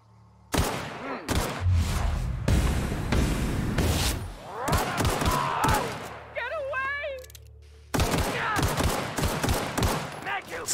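Gunfire in The Outer Worlds, with loud repeated shots and thumping impacts over several seconds, mixed with game effects and brief pauses.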